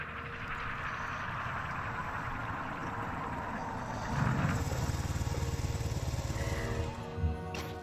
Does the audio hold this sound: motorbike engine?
yes